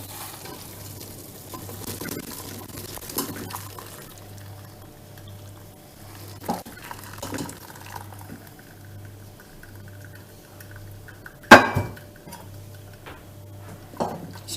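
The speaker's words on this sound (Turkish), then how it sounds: "Şimdi pişirmiş olduğum üzümleri süzgecime dökeceğim ve süzeceğim." Soft liquid sloshing and splashing in a kitchen as cooked grapes are poured from a pot into a strainer, with a few clinks of pot and utensil, and one sharp metallic knock partway through.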